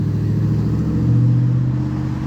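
A Tesla Cybertruck rolls by at close range, giving a steady low hum and whir of motor and tyres that swells slightly midway without a sharp peak.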